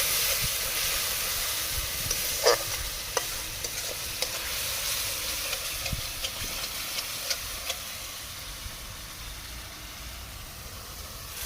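Chicken kosha masala frying in oil with a steady, close hiss and sizzle, broken by repeated scraping stirs and light clacks of a spatula against the pan.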